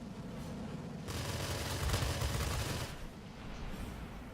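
Sustained machine gun fire from a Tier X North American F-86A jet fighter in the World of Warplanes flight game, a dense rattling burst lasting about two seconds over a steady engine and wind drone, with no voices.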